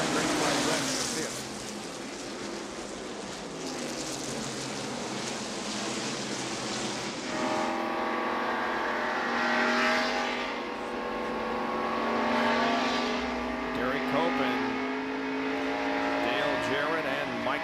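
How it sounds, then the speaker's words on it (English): NASCAR stock cars racing at Darlington Raceway in the 1990 Southern 500, a steady roar of engines with rising and falling pitch as cars pass close by, carried under commentary. "Waltrip passing the Hines car"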